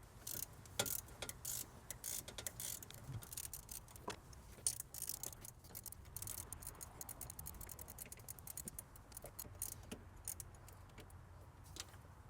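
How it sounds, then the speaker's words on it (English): A wrench loosens a 12 millimeter bolt in the engine bay of a Toyota Sienna, giving rapid, repeated metallic ratchet clicks in uneven bursts, close up, with faint light clanks and no speech. "Now we're gonna loosen this 12 millimeter bolt."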